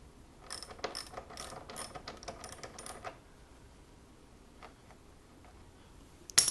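A ratchet wrench loosening 8mm bolts on the plastic body panels of a Honda ST1300 motorcycle, a quick run of close, crisp clicks for about three seconds, then quieter scattered ticks.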